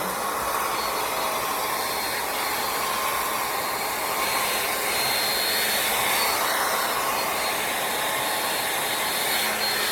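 Heat gun blasting steadily while shrinking plastic wrap over a boat, a continuous loud airy roar with no breaks, close to the tool.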